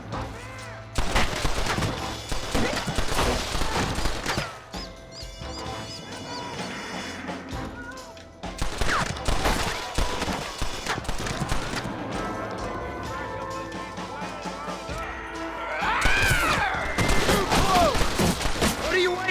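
Gunfire in the video game Red Dead Redemption on Nintendo Switch: repeated sharp shots and bursts come through a busy game soundtrack with music, and in-game voices talk over the action.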